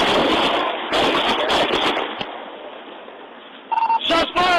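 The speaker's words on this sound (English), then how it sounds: "Shots fired! Shots fired! Drop the gun!" Gunshots at a trailer park during a police encounter, several sharp cracks in quick succession at the start, followed by a stretch of noise and a few more abrupt bursts, loud and near.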